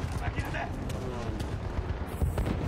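Repeated gunshots from a retro console shooter game crackle through dense, busy game audio, with sharp bursts scattered throughout the short stretch.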